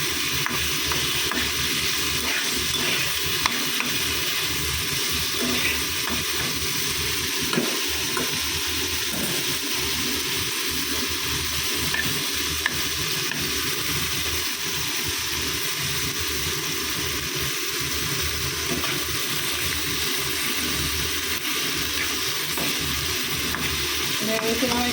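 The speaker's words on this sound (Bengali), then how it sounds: "কম তেলে দিই, উচ্ছে ভাজা হয়ে যাচ্ছে।" Bitter gourd frying in a little oil in a home kitchen pan, a steady broadband sizzle with scraping stirs running the whole time at close range, no talk over it.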